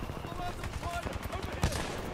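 Titanfall 2 weapon fire pounds in a quick, steady series of low thumps, with one sharper crack near the end. A voice talks over it the whole time.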